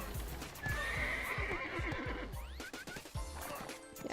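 A horse whinnies loudly up close while its hooves clip-clop in an uneven rhythm, the neigh rising and falling over the hoofbeats, with no speech.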